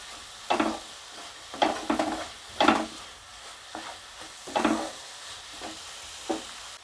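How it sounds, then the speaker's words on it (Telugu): A spatula stirring a thick pumpkin sweet in a pan, repeated scraping strokes in irregular bursts, close and moderately loud with no talking. "స్వీటు ఈ ప్లేస్లో బాగా కలుపుకోవాలి మనం ప్యాన్ కంటుకోకుండా"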